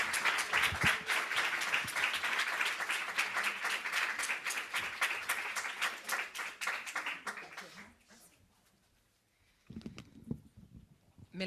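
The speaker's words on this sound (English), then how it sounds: "Another round of applause" A convention audience breaks into sustained, dense applause of many hands clapping loudly, fading out near the end before a brief burst of voices and scattered claps returns.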